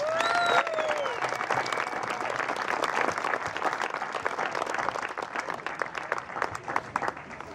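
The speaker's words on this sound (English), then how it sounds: "Let's give him another round of applause." Applause and clapping from a crowd at a high school baseball game honoring a player, sustained and dense throughout, with brief whistles at the start and some voices mixed in.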